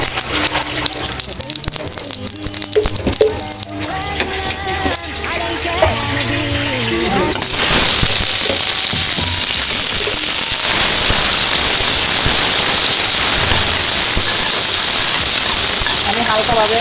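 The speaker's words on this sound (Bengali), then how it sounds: "আমি হালকাভাবে আলুটা ভেজে নেব।" Potatoes frying lightly in oil in a pan, with a loud, steady broadband sizzle from about the middle onward, following a stretch of harmonic background sound.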